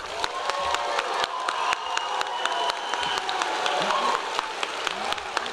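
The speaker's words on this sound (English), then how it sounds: "Can we give them a round of applause?" A commencement crowd at the Enterprise High School and Adult Education ceremony applauds the class of 2025, sustained clapping from a large audience with sharp individual claps standing out and faint cheering mixed in.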